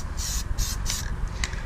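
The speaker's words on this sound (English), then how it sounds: "We're just gonna start spraying this" Short hissing bursts of an aerosol can of Plasti Dip spraying wheel weights, three in quick succession then a brief final puff, close by.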